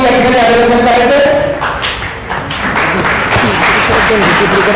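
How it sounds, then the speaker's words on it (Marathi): An audience at an Independence Day gathering bursts into loud, sustained applause for a group being honoured; a voice speaks briefly at the start before the clapping swells and fills the rest. "आपण जोरदार टाळ्या वाजवून या ठिकाणी अभिनंदन करायचं"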